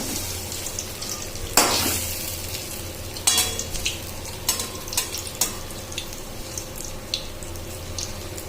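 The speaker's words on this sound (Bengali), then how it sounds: "আমি বড়াগুলো একটা একটা করে গুলতে দিচ্ছি" Taro and prawn fritters frying in hot oil, a steady close sizzle with a few louder bursts as pieces drop in and a light stir, no talking.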